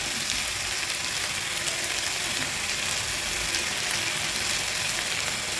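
Tomatoes for egg curry sauté in a pan with a steady, close frying sizzle, an even crackling hiss that runs unbroken throughout with no voices.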